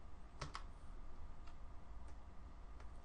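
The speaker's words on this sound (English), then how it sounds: "I'm just clicking Alt real quick one time." A single Alt key click on a computer keyboard during ZBrush work, a faint sharp tick, with a few more light taps spaced across a quiet, hissy background and no speech.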